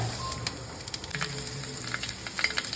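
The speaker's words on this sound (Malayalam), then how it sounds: "കടുക് പൊട്ടി" Mustard seeds spluttering in hot oil for a tomato gothsu, a steady sizzle broken by scattered sharp pops and crackles, close and moderately loud.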